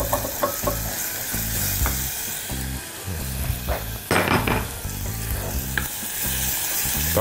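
Garlic fries in a pan with a steady sizzle, broken by repeated scraping and clattering stirring strokes close by, with no voices.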